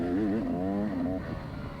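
A dirt bike engine labours up a greasy, rutted uphill trail, its tone close and loud, wavering as the revs rise and dip before easing off near the end.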